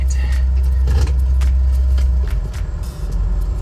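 A 1964 Ford Galaxie 500 with a newly fitted carburetor running, a loud, steady low engine rumble heard close up, with faint clinks and rattles over it.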